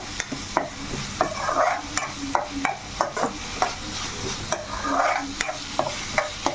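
Raw masala fries in a pan for gongura chicken curry, with a spoon scraping through it in repeated sharp strokes over a continuous sizzle, loud and close, with no voices.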